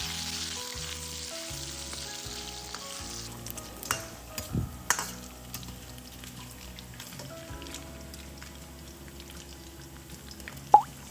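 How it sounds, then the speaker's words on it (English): Pork belly sizzles in hot vegetable oil in a wok, a steady close crackle with occasional sharper pops and stirring clatter, no talk. "Add the vegetable cooking oil to the wok and fry the pork belly until well"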